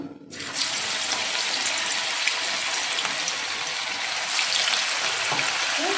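Onion vadai dropping into hot oil, then frying with a steady, loud hiss and crackle that starts abruptly and continues evenly throughout.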